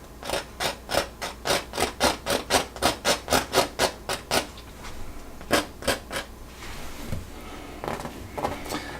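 Palette knife scraping oil paint across canvas to form thin stick shapes: a fast, regular run of about fifteen short rasping strokes, then a pause and a few more scattered scrapes, close and fairly quiet.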